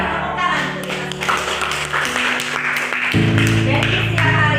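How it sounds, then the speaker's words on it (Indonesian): Students and teachers clapping during a school dissemination session at SMA 16, a sustained patter of many hands mixed with crowd voices and a steady tonal hum underneath. "Tepuk tangan untuk kita."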